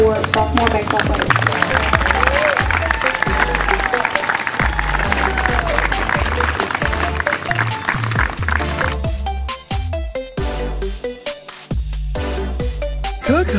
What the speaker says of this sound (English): please give a round of applause for our 2024 sophomore baseball players